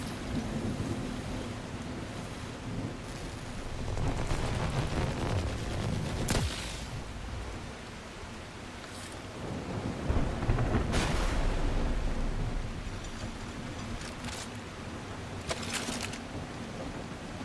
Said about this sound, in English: here's stormy weather